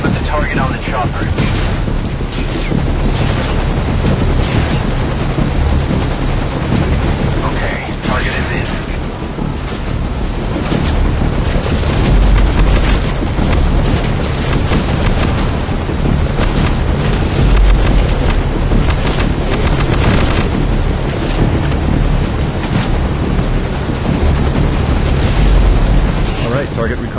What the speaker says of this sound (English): Target recovered, and we're on the chopper.